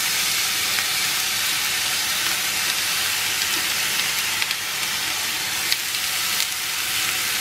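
Grated beetroot sautés in a pan, producing a loud, continuous bright sizzle with occasional faint clicks of stirring and no voices.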